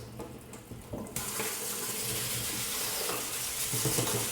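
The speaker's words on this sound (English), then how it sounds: "like to give them a real good spray off with cold water." Cold tap water sprays hard into a sink to rinse taxidermy tools after working a largemouth bass skin, starting softer then surging into a loud, steady close hiss.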